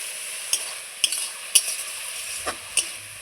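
Boiled lafa greens frying in a pan, stirred with a utensil that scrapes and clinks sharply about twice a second over a steady sizzle, close and fairly quiet.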